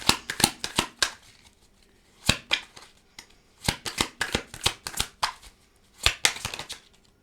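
Tarot cards being shuffled by hand, crisp riffling bursts in quick clusters with short pauses between, close and clear with no talking.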